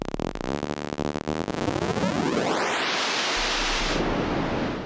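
Behringer Grind synthesizer outputs harsh noise, starting as a buzzy, stuttering pulse that smears into a rising filtered sweep and settles into a loud, hissing wash with a high whistling resonance.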